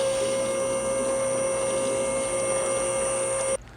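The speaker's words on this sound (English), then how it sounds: "So now we're bleeding air out. You can hear air coming back in there" A garage lift's hydraulics drone and hiss steadily as air bleeds out, then the sound cuts off abruptly just before the end.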